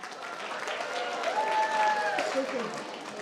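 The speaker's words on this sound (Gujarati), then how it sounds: "જોરદાર એમના માટે તાળી." An audience claps together for a Republic Day celebration, a dense, steady burst of applause lasting a few seconds at moderate loudness, with faint tonal sounds running underneath.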